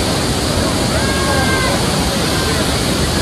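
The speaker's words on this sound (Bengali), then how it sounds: "প্রচন্ড স্রোত সেখানে" A strong rushing current roars at Kawasan waterfalls, a loud, steady, dense wash of water close by, with voices faintly underneath.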